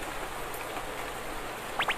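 Heavy rain in a Doraemon cartoon pours as a steady, soft, even hiss from start to finish, with two short chirpy squeaks near the end.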